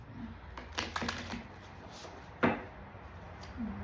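A deck of cards is shuffled for a reading, with a run of soft riffling snaps and taps and one sharper slap near the end, close and fairly quiet.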